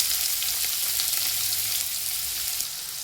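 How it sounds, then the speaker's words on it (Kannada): Cumin seeds and onion sizzle steadily in hot oil in a pan for a capsicum sabji, a close, continuous hiss with no talking. "ಇದಕ್ಕೆ ಅರ್ಧ ಸ್ಪೂನ್ ಜೀರಿಗೆ ಹಾಕ್ಕೊಳ್ಳಿ. ಹಾಗೆ 1 ಈರುಳ್ಳಿ ಹಾಕ್ಕೊಳ್ಳಿ."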